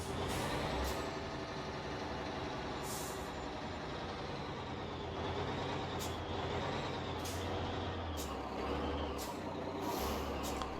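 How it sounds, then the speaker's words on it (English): A truck's air brakes in American Truck Simulator hiss in repeated sharp bursts over a loud steady engine rumble and road noise. "That's full brakes."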